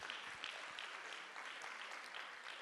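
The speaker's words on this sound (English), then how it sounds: "Let's give him a round of applause." Audience applause at a G20 community engagement town hall in Rustenburg, a steady dense wash of many hands clapping throughout, moderately distant and even, with no talk over it.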